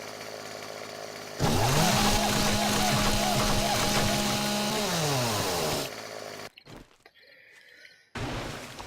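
Chainsaw in the video game 7 Days to Die revs up loudly and cuts down a tree with a steady buzzing whine for about four seconds, then winds down, followed by crashing and thudding debris.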